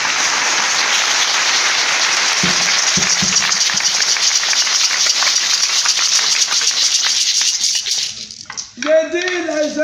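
A crowd applauds loudly and steadily at an outdoor gathering, the clapping sustained for several seconds before thinning out, then a voice begins speaking as it fades.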